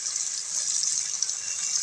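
Steady tap water pours and splashes while raw sea prawns are rinsed for a prawn thokku, a continuous close hiss with no break.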